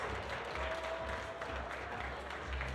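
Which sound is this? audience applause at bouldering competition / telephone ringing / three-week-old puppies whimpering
audience applause at bouldering competition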